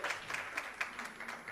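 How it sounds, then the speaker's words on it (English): Audience at a teachers' research colloquium applauding a speaker, a short, faint spatter of clapping from a moderate distance, without talk. "Let us clap hands for Doctor"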